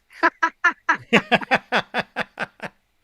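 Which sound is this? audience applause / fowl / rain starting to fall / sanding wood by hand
fowl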